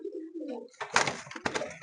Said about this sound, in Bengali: পায়রাগুলো অতিরিক্ত ছটফটে